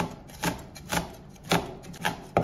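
Knife chopping bird's eye chili peppers on a cutting board: four or five separate crisp knocks spaced about half a second apart, close and fairly quiet with nothing else heard.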